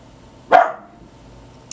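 A single sharp dog bark rings out close by, brief and loud against a quiet room, followed by silence.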